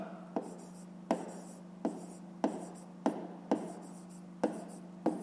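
Pen strokes scratch on paper while a math solution is written out, a regular series of about eight sharp taps and short scrapes, close and clear over a low steady hum.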